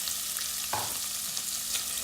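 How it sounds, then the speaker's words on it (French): Constant close sizzling of chicken pieces frying with spices in hot rapeseed oil, with a brief scrape of stirring partway through. "Je fais dorer les morceaux de poulet avec les épices pendant 2 à 3 minutes."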